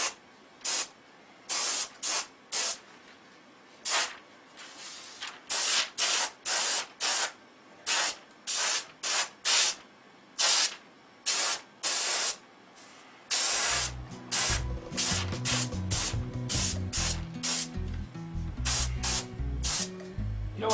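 Short, close hissing bursts of spray paint laying a trim coat on a P-51 model, in a steady on-off rhythm, with a low motor hum joining partway through.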